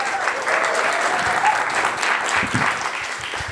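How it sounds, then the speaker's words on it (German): Audience applause at the re:publica 2022 conference in Berlin, steady dense clapping from a large crowd sustained for several seconds at an even level, with no voices over it. "Einen Danke riesen Applaus."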